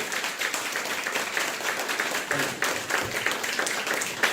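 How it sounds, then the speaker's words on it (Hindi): Steady applause from an audience at a business plan presentation for a company CEO, a dense crackle of many hands clapping continuously and fairly loud throughout. "जोरदार ताली दोस्तों, जोरदार ताली"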